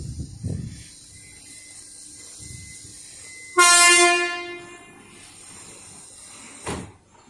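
Melbourne Metro train at Union Station: low rumble and a couple of dull thuds, then a loud bright horn-like tone that fades over about a second, followed by a final clunk.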